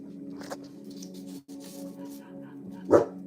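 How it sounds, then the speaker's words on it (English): A small dog barks a few times at a distance, with one louder, sharper bark near the end over a steady low background hum. "that little dog is barking"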